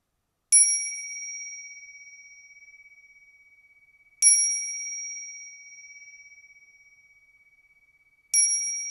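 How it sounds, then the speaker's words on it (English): A meditation bell struck three times at slow, even intervals, each clear bright ring hanging and fading gradually in an otherwise silent room. "When you hear the bell, what's the tonality?"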